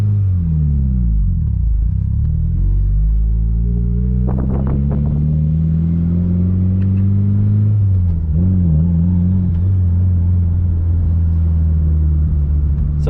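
A 2006 Mitsubishi Lancer Evolution IX, an all-wheel-drive car, drives around a building with a steady, loud engine rumble that rises and falls as it accelerates and shifts, heard up close and alone.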